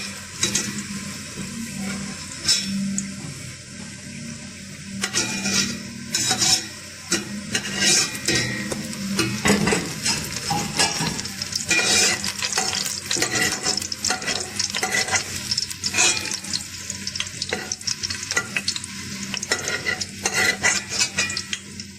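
Onions fry in hot oil in a pan for a dark pasta sauce, a continuous loud sizzle broken by frequent scraping and clinking strokes of a spoon stirring against the metal pot, with no speech.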